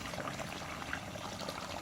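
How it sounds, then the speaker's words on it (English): Dirty water with fine and gritty particles is poured into an aquarium tank, a quiet steady splashing trickle that runs on continuously at low volume with no voices. "Pour it in there, try and get the dirtier, the finer particles out"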